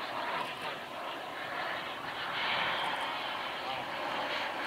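Radio-controlled model airplanes fly in mirror formation at a model aviation meet, their engines making a steady, moderately distant drone that rises and falls slightly.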